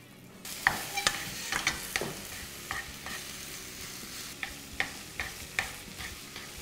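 Ground meat filling for Moroccan kefta briouates cooking in a pan, with a steady sizzle under repeated scraping and clacking as it is stirred. The stirring strokes are close and distinct, and no one speaks.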